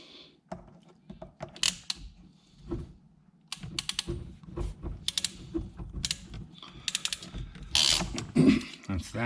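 A hand crimping tool working a plumbing fitting for a bathroom sink, giving repeated close ratcheting clicks and mechanical creaks in irregular bursts.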